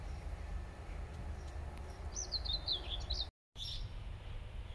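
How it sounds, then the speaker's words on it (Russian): Small birds sing faintly in a sunny June garden, a brief thin warbling phrase over a low steady background hum, distant and quiet. "Птички поют."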